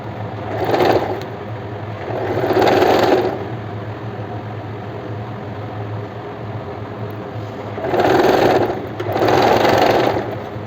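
A sewing machine stitches the overlapped belt seam of palazzo pants from the wrong side, running in four short, close bursts with steady pauses between them over a low room hum.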